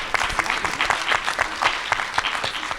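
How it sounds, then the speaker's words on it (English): A conference audience at a closing plenary claps after a talk on student mental health, loud, dense applause with distinct sharp hand strikes throughout, no voices. "Round of applause."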